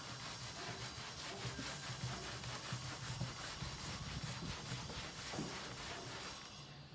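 A cloth soaked in Crud Cutter cleaner scrubs a heavily stained wooden surface with a steady, close, coarse rubbing that carries on without a break, alone and at a fairly even loudness.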